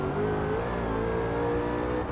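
Supercharged 2020 Ford Shelby GT500 engine in Forza Horizon 4, a steady loud rev with rising engine tone held throughout, continuous and close with no talking.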